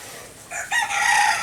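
A rooster crows loudly and close by, a single drawn-out call rising over quiet background hiss, with no talking.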